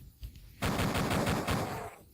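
Enemy gunfire in the Duke Nukem 3D video game: a loud, rapid automatic burst that starts abruptly and lasts about a second and a half before tapering off.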